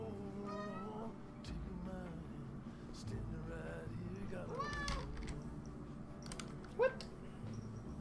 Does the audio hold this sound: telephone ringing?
no